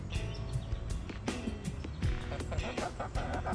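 Several hens sing an egg song, with overlapping clucks and squawks repeating in bursts over a busy background of scratching and rustling.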